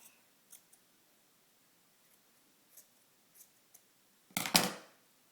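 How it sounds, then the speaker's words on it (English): Scissors cut a piece of Sorbact wound dressing, a few faint soft clicks and snips scattered through quiet, then one louder crisp snipping cut near the end. "We're going to cut a piece of Sorback to go into this wound."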